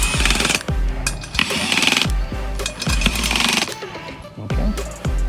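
Impact wrench tightening wheel bolts lightly in a shop, a series of loud, close rattling bursts repeating about every second with short gaps between.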